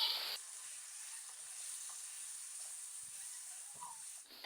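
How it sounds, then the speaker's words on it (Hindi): Boneless chicken cubes frying in a pan with cumin and green cardamom, giving a steady close hiss and sizzle with a few faint crackles, alone without talking. "अब हमने अच्छे से फ्राई करना है चिकन को।"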